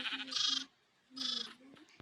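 Sheep on a farm in the video game Minecraft bleat twice in quick succession, two wavering, nasal calls about half a second apart, close and clear with no voices.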